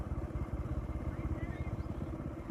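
Motorcycle engine on a village forest road beside the Yamuna, a steady pulsing low throb close by, with voices talking over it.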